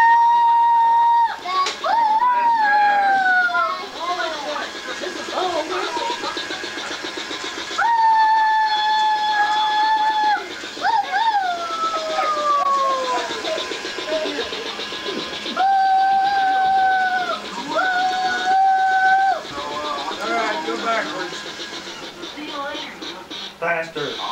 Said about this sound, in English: Let me turn it on.